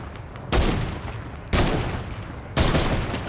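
Bursts of gunfire in the Fortnite battle royale video game, three loud broadband blasts about one second apart, each trailing off under a steady game background with no talking.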